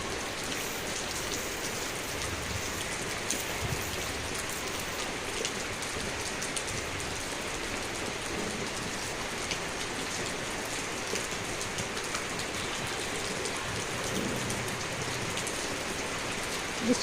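Steady rain falls close by, a dense, even hiss of drops striking surfaces that holds at constant loudness throughout, with no pauses and no talk.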